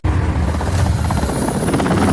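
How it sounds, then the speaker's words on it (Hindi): Military helicopters flying in a Bollywood action movie scene, a loud continuous rotor roar and thudding blade chop filling the whole clip with no pause. "ये बड़े बड़े 3-3 हेलीकॉप्टर"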